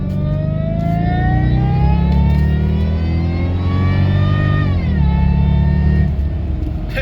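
A 400-horsepower car accelerates hard onto a freeway, its loud engine climbing steadily in pitch through one long pull, dropping briefly at a gear change, then rising again, heard from inside the cabin.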